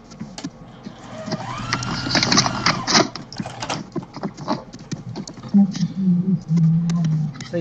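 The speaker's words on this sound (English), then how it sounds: "I'm going to sew these two together" A sewing machine stitches two tote bag pieces together, its whirring runs coming in short bursts between pauses at close range, with faint room noise around it.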